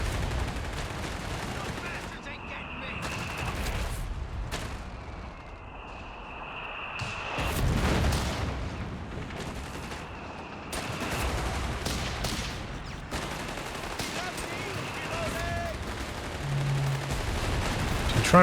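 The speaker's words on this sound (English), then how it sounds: "So the mortar's going to work on the building now." Mortar shells striking a building in Company of Heroes 3, a string of scattered blasts and crumping impacts amid ongoing gunfire and battle din, some loud and near, others more distant.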